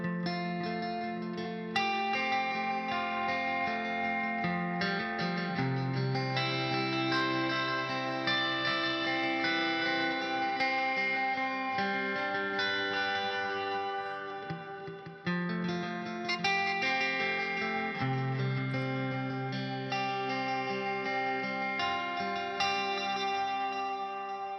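Electric guitar fitted with Lace Blue Fire pickups, played on the middle pickup, rings out in a clean, sustained tone with chorus and echo effects, chords and melodic lines flowing continuously with no voices.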